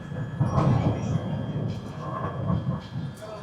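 A train in Malaysia on the line to Batu Caves rumbles toward its final station, with a steady rolling clatter and metallic rail noise filling the carriage throughout.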